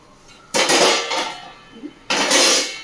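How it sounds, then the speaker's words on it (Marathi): A lid is set on a metal cooking pot on a stove, two separate clattering contacts of metal against metal, close and fairly loud, with a brief quieter clink between them. "झाकण ठेवते"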